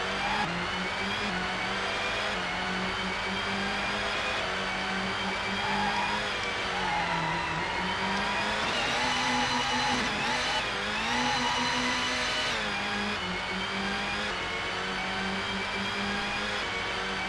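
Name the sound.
car engine sound from video game GT64 Championship Edition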